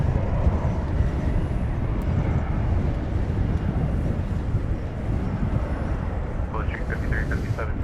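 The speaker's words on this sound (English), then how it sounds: "Here's the A350 1000." An Airbus A350-1000 airliner rumbles steadily at an airport, a broad continuous engine roar that holds at a constant level throughout, with a faint voice in the background.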